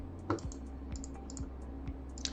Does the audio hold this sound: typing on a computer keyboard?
yes